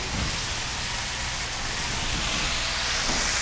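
Butter with rosemary sizzles in a hot pan while cooking deer, a loud, steady hiss of frying fat that holds constant from start to finish with no voice.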